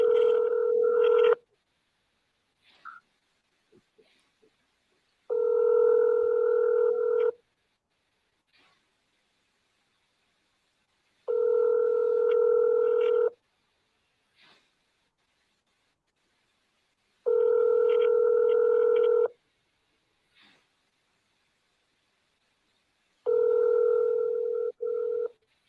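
Repeated steady telephone tones on an outgoing call to a seller, five long beeps spaced about six seconds apart with silence between, clear and alone with no talking.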